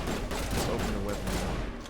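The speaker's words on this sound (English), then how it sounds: "That was a fucking grenade." A grenade explosion in the Mass Effect video game comes through as a dense, loud burst of combat noise with crackling gunfire-like rumble that fills the whole moment.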